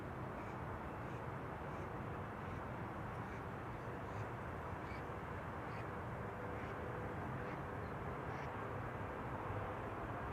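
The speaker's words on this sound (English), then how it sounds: "there's a 747 on final to center" A Boeing 747 on final approach to the center runway at Amsterdam Schiphol produces a steady, broad jet roar heard from a distance, a faint even wash of engine noise throughout.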